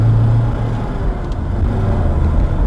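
A BMW 318i E30 with the M40 engine accelerates close by, a loud, steady low roar that holds for the whole stretch with no voices.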